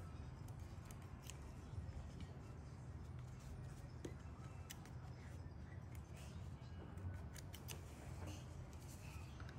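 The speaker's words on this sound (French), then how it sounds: "et là, je vais couper mon fil" Scissors snipping crochet yarn at close range, a few soft quick cuts against a faint steady background hiss, with no talking.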